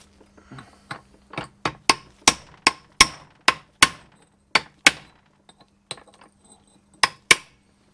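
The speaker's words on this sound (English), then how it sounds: "There's a lock tab to knock back there, so we'll do that while we're here. This is all a bit hammer and chisel again." A hammer strikes a chisel to knock back a lock tab on a Classic Mini 1380 gearbox, about a dozen sharp metallic taps in an uneven rhythm, close and loud, with a short pause before a final pair.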